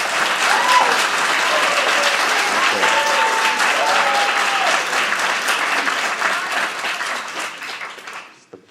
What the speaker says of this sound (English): It's the first time I've been clapped for